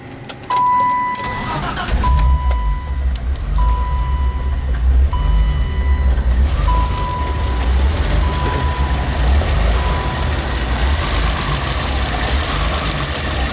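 A BMW E30 is started with the key: a short cranking whir catches into a loud running engine with a rough, uneven idle, accompanied by a repeating electronic chime, close up and without talking.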